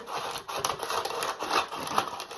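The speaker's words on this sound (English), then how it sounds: "I'm going to get some scissors and cut off the outer edge." Scissors snip through the outer edge of a homemade rocky road slab, giving a close run of crisp, irregular cutting and crunching clicks with no talking.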